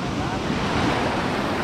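A mountain river rushing over a stony bed where floodwater washed away a field, a steady loud broadband roar of flowing water close to the microphone, with no talk.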